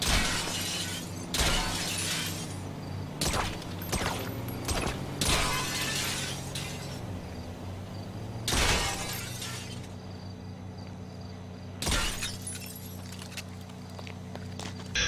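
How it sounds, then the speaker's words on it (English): Window glass shatters under gunfire in GTA Online, several sharp crashing bursts spaced across the stretch with tinkling debris and faint footsteps between them, loud and near. "All you need to do is shoot out this window."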